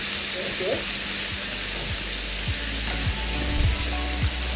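Meat browning in a hot pan gives a continuous bright sizzle and hiss up close, with occasional utensil clicks and a faint voice in the background.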